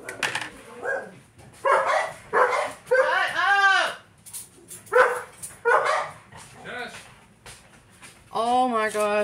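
Several pet dogs bark in repeated bursts close by in a home kitchen while meatloaf is being made, with someone talking between and over the barks.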